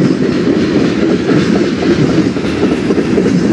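A long Norfolk Southern or CSX freight train rolls past at night in Fostoria, Ohio, a loud, close, continuous rumble of wheels and cars with a steady clatter and no break.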